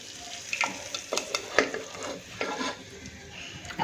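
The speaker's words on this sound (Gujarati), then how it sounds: "આપણો વઘાર સરસ થઈ ગયો છે, એને આપણે દાળમાં એડ કરી દઈશું." A hot tempering (vaghar) for Rajasthani dal sizzles as it is stirred, with bright scraping and clinks of a spoon against the pan coming in irregular bursts.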